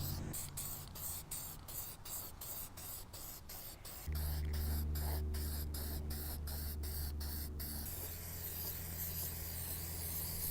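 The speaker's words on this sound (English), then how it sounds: "we're gonna go ahead and spray these up, and we're gonna do a light coat first" Spray paint hisses from an aerosol can in a long continuous burst as shooting targets are coated outdoors on a windy day, with rapid rhythmic ticks running through it.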